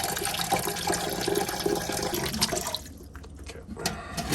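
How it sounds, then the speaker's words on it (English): Water runs and gurgles as a pot fills for frying a turkey, a steady rushing pour that thins out near the end into lighter splashing and dripping. "Water's going in."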